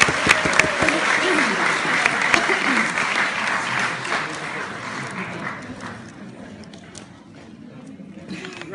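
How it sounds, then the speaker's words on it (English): Audience applause at a retirement speech, a sustained round of clapping from a crowd that starts loud and gradually thins out and fades toward the end. "So give yourselves a big round of applause."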